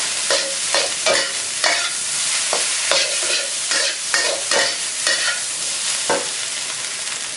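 A wok stir-fry of fried rice with kale and salted fish makes a loud, steady sizzle, broken by rhythmic scraping and clanking of a spatula against the pan about every half second.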